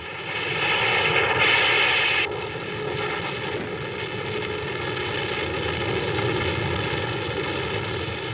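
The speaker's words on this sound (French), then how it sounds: "Près de 800 avions lâchent des bombes explosives de 4 tonnes et des bombes incendiaires au phosphore de 400 kg." Massed WWII bomber engines drone on a nighttime raid where about 800 aircraft drop heavy explosive and phosphorus incendiary bombs, a loud, steady, harmonic roar that swells briefly near the start and then holds unbroken.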